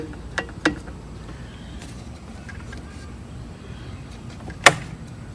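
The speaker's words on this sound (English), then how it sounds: "in gear, neutral, out of gear" A 1992 Evinrude 15 HP outboard shifts into and out of gear with sharp mechanical clicks: two close together near the start, then a louder single clunk a few seconds later over a quiet background hiss.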